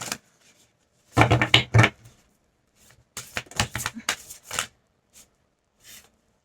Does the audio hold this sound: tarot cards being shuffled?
yes